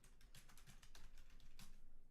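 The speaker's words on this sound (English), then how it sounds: "If I start typing my title," Rapid keystrokes on a computer keyboard while entering a post title in a web form, a quiet, close, continuous patter of uneven clicks.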